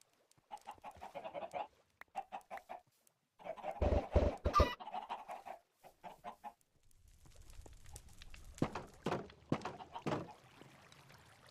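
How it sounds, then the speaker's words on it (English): Chickens in the Minecraft video game cluck in short repeated bursts, several calls spaced across the stretch, with a louder cluster midway and softer game sounds toward the end, no talking over them. "Oh, look at the ducks."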